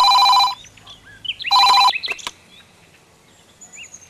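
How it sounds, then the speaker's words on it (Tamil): Two bursts of an electronic telephone ring, each a loud trilling tone lasting about half a second, separated by a short gap, followed by faint chirpy sounds in the quiet after. "ஃபோன் பண்ணுறான், கொஞ்சம் ஃபோன் எடுத்து பேசுமா"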